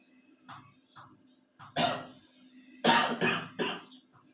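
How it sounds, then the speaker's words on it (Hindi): Several harsh, close coughs from a person in a lecture setting, two quieter throat sounds first, then a strong burst and a tight run of three loud coughs over a low steady hum. "खांसी बहुत ज्यादा हो गया"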